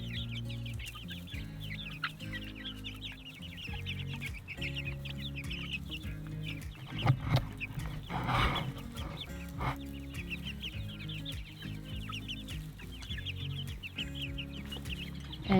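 Many chickens cluck and chatter steadily throughout, a busy flock close by with overlapping calls and occasional louder squawks.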